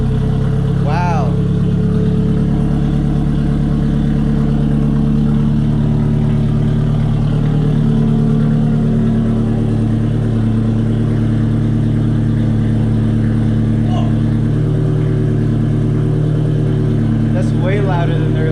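An RHD Nissan S13 Silvia from Japan with ISR 3-inch blast pipes, factory downpipe and a slight exhaust leak runs loud and close, a low, steady droning engine note with occasional rev changes, while a person talks over it.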